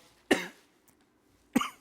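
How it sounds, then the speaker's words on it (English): Two sharp, close coughs, the first just after the start and the second near the end, with a quiet gap between them. "Thanks for just steamrolling over me coughing"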